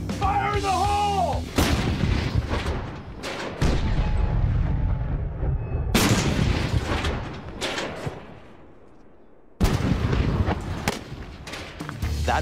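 A WWII Pak 40 anti-tank gun fires repeatedly, each shot a loud, deep boom with a long rolling echo that fades between blasts, heard outdoors at close range.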